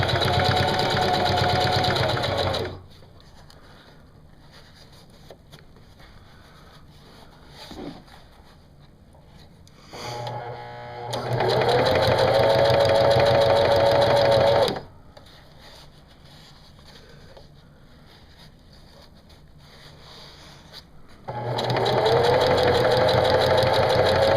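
A sewing machine stitches a DIY decoy bag at moderate speed in two long loud whirring runs. Quiet pauses come between the runs, with small handling sounds as the fabric is repositioned.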